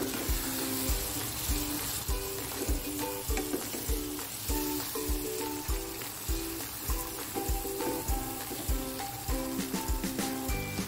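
Petai beans being stir-fried with shrimp in a pan give a steady, close sizzle, with repeated scraping and clacking from a stirring utensil throughout and no talk.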